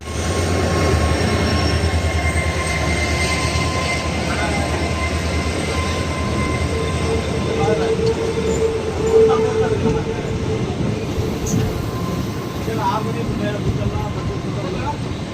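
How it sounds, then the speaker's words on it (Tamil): A train on the Rameswaram–Palani line rumbles past nearby on the opposite track with a steady clatter of wheels and faint metallic squeals, while voices talk underneath. "இப்போ வாங்க நெக்ஸ்ட் ஒரு முக்கியமான ட்ரெயின் பார்த்தீங்கன்னா நமக்கு ஆப்போசிட்டில் கிராசிங் ஆகிட்டு இருக்குது"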